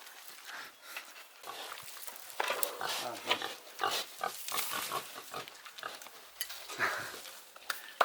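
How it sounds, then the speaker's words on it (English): A pig at feeding time on a farm in Armenia, with snuffling, grunting and clattering of feed or dishes up close, while people talk quietly in the background. "you're gonna feed the pig?"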